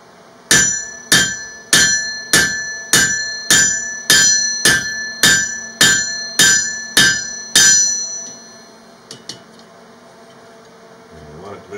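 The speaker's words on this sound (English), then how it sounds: "This round faced hammer, it's a round or flatter." A blacksmith at a forge strikes steel with a round-faced rounding hammer, about a dozen evenly spaced ringing metallic blows, loud and close, followed by quiet with a couple of faint clinks.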